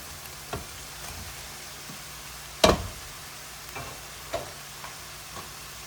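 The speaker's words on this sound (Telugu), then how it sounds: "ఇలా ఉల్లిపాయలు, అల్లం పేస్ట్ వేగుతున్నప్పుడే నేను ఉడకపెట్టుకున్న పచ్చి రొయ్యలు వేస్తున్నాను చూడండి." Boiled raw shrimp drop into a pan of onions and ginger-garlic paste with one sharp clatter, then frying continues as a soft, steady sizzle with a few lighter knocks.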